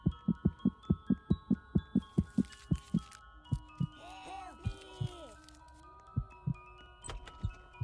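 Heartbeat in a Roblox horror game, a steady run of thudding double beats that starts quick and regular, then spaces out briefly while a faint tonal warble plays, before resuming.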